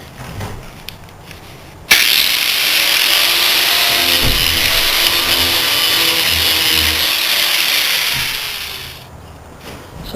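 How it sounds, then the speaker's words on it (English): An angle grinder runs steadily for about seven seconds, grinding out a carriage bolt from the top amid old fiberglass while prepping to remove a frame, loud and close, with no talk. "so I'm just going to have to grind it out from the top"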